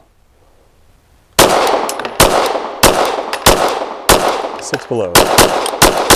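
A Canik Rival-S pistol fitted with a green dot sight fires eight sharp, loud shots in a quick, fairly even string after a brief quiet start, with faint metallic ringing between them.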